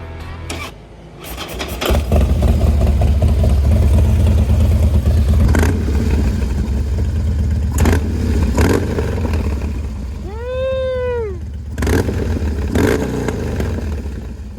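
A 2013 Harley-Davidson Dyna motorcycle with a Bassani exhaust and a rebuilt top end revs hard. A loud, sustained engine roar carries sharp throttle blips and a rising rev near the end.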